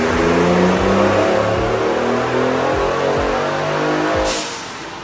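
A turbocharged 2019 Ford Raptor engine revs hard during a dyno pull, a loud, steady roar with rising harmonics that holds for several seconds and eases off near the end.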